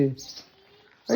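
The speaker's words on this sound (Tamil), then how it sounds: "சிட்டுக்குருவி." A sparrow gives a short, high chirp close by, with voices sounding just before and after.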